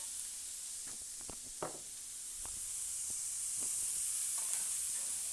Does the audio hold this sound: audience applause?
no